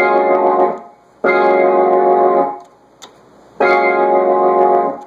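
Sustained Hammond L-100 organ chords ring out in three long held blocks, swirling with a chorus shimmer, separated by short pauses and a faint click.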